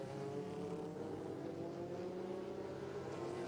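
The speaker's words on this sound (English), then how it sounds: "The Cadillac goes past that yellow GT car." A Cadillac prototype race car passes a yellow GT car at Petit Le Mans, engines droning steadily at a distance under a constant wash of track noise, with no talk.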